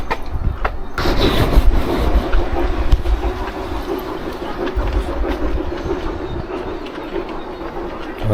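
A train rolls along railway tracks in Peterborough, England, a loud steady rumble with clickety-clack wheel rhythm heard from nearby and no talk.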